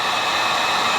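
Heat gun blowing hot air onto vinyl wrap on a Tesla Model 3 side mirror, a steady close hiss and whir that stays constant throughout.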